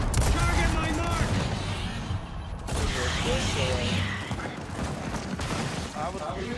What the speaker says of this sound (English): I was shooting everybody in the circle.